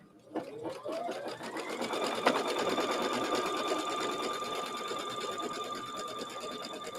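A sewing machine stitches with gray thread, starting after a soft click and ramping up into a steady, fast mechanical whir with a high running tone, fairly quiet and close, with no voices.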